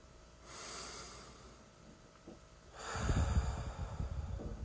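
Slow, deep breathing through the nose during a guided relaxation, a soft inhale hiss followed by a longer, fuller exhale, close and quiet with no talking.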